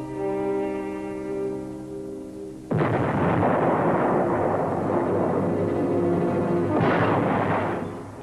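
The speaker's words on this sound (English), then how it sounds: "Desperate, the ships tried to bombard their way in." Ships' guns fire a bombardment against the towering Filchner ice shelf at Cape Adams in Antarctica, a loud sudden blast that booms and rolls on, with a second burst swelling near the end over a droning background.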